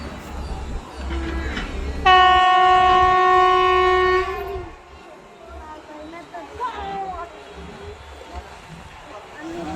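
A goods train sounds a loud, sustained horn for about two seconds, then rumbles along with fainter clatter and background noise.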